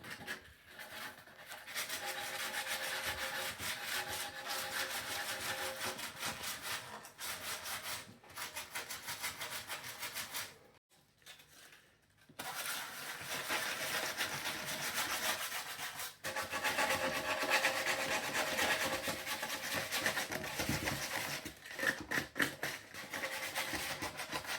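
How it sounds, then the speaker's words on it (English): Sanding a wooden box by hand, a steady scratchy rubbing that carries on with a brief pause around the middle and stays fairly close and even throughout, with no talking. "Now that they've given it a quick sand down"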